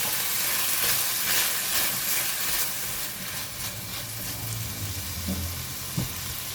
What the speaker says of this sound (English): Put in just half of the salt and oyster sauce. I'm just going to put half only. Give it a stir.